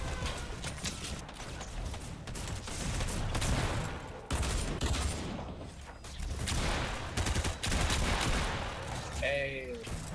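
Rapid bursts of gunfire in the video game Fortnite crackle continuously through a dense, busy battle soundscape, with repeated close shots and a few tonal game effects near the end.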